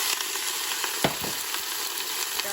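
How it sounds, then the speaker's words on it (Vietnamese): Sliced beef stir-fries in hot oil in a pot for spicy beef noodle soup, a steady close sizzle with a couple of scraping stirs partway through. "mình sẽ cho cái thịt bò mình sắc rồi đó vào mình xào sơ"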